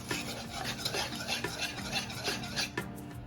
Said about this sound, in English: I'm just consistently whisking it just to keep a nice consistency going, because we don't want any kind of lumps in here